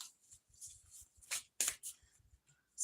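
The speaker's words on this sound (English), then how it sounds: "We got that shuffle." Tarot and oracle cards being shuffled by hand, a quick close series of crisp riffling bursts and soft slaps with pauses between them.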